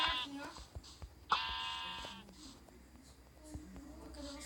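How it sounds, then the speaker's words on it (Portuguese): A Minecraft sheep lets out a short, nasal bleat in the middle of game sounds and scattered clicks, while players talk quietly. "vou pegar a ovelha"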